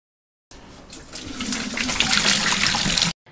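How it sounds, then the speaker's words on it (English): Old bowling lane oil pours from a waste container into a sink, a steady liquid splash and trickle that starts abruptly, builds slightly, and cuts off after about two and a half seconds. "When emptying the old oil into the sink"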